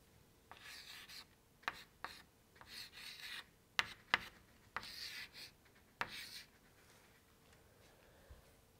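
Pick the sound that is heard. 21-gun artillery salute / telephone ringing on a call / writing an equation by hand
writing an equation by hand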